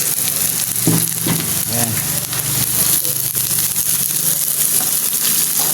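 Chopped garlic and onions sizzle steadily in an oily pan, a continuous close frying hiss with occasional stirring scrapes, and a brief spoken word partway through.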